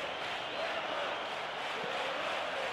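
Stadium crowd noise from a PES football video game, Manchester United versus Liverpool, a steady dense roar at moderate level that holds for the whole stretch, with no clear peaks.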